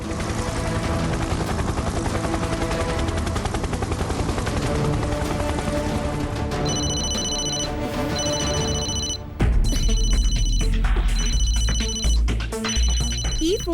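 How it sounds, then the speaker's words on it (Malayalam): A cartoon phone rings with an electronic ringtone, its repeated bursts sounding loud and close over busy background music and sound effects, in a Malayalam-dubbed animated episode of Kicko & Super Speedo. "ഈ ഫോണിലേക്ക് ആരോ കോൾ ചെയ്യുന്നുണ്ട്."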